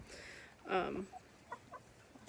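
Chickens in a southern Ohio homestead flock cluck softly, with one fuller squawk followed by a few short, scattered clucks at close range.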